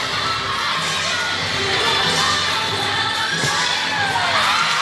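A crowd cheers and shouts at a women's college gymnastics beam exhibition, loud continuous roar with high children's and fans' shouts and whistles swelling throughout.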